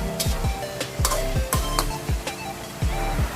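A spoon stirs chicken liver and gizzard adobo in a pan, scraping in a steady rhythm about twice a second over a soft continuous simmer, close and alone.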